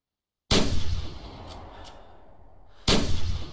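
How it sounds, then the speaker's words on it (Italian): Two loud, close hunting rifle shots in The Hunter, each a sharp broadband crack, the first with a long decaying tail and the second coming about two seconds later, with no talk. "Sparato completamente a caso, non credo di averla colpita."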